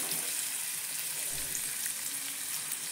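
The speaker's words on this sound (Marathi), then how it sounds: "चला आता मी कांदा भाजायला टाकते." Onion frying in a pan makes a faint, even sizzling hiss that holds steady throughout, with no voices over it.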